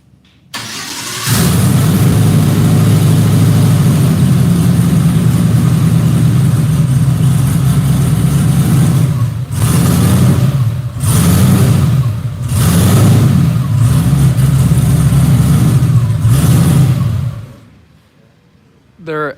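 An engine with S400-based turbos fires up and runs hard on a dyno, a loud sustained roar that surges through several rev pulses before cutting off abruptly.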